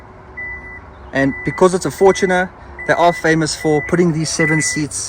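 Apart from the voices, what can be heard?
beeping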